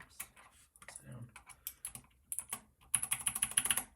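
Typing on an 8BitDo Retro mechanical keyboard fitted with MX Blue switches, close-up clicky keystrokes in irregular bursts that speed into a rapid run near the end, quiet overall.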